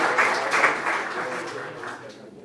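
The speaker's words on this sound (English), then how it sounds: "A round of applause for Nico." Audience at a startup demo day applauding a presenter, a dense burst of clapping that is strongest at first and then gradually thins and fades.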